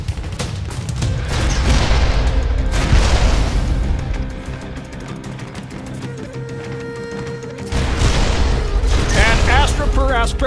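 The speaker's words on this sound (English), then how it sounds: "rocket launcher." Rocket launcher in the video game Immortal Redneck fires with heavy booming blasts and rumbling explosions, loud bursts separated by a quieter mechanical stretch, with a voice speaking during the clip.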